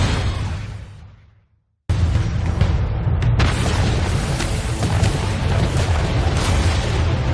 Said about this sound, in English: Missile launch detected.